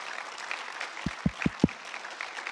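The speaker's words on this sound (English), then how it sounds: "let's make a big round of applause for this fantastic panel discussion" Brief, soft audience applause after a panel discussion on free speech, a diffuse patter of claps with a few low thumps near the middle, fairly quiet and short.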